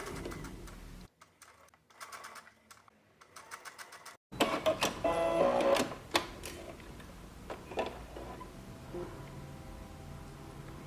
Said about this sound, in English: I'm sewing this with white thread so that you can see it really well